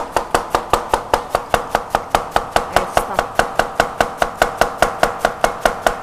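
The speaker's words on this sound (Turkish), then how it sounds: "şöyle ince ince doğrayabilirsiniz" A knife chops cabbage rapidly and evenly on a cutting board, about five sharp strikes per second, close and clear with no talking.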